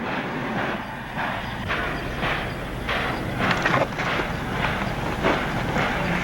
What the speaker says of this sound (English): We won't be looking for trouble until after the train pulls out